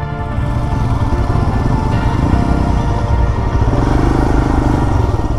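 A KTM Duke motorcycle engine runs loud and close, a steady dense rumble with a slight rise partway through, and no talking over it.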